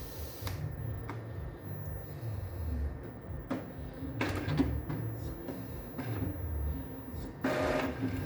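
An Epson L3150 printer starts up with mechanical whirring and clicks, and a few sharp ticks and short bursts of motor noise stand out over a steady low hum.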